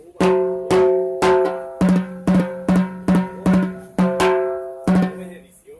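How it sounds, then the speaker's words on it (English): The larger macho head of a Meinl Professional Series bronze timbale struck about a dozen times in a steady rhythm, each hit ringing with a metallic, resonant tone and quick decay, played alone and close. "We got the macho head"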